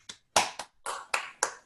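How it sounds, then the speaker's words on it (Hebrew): Six sharp, separate claps in quick succession, close and crisp with short gaps, more like a single person clapping than a full audience. "אני בעד מחיאות כפיים"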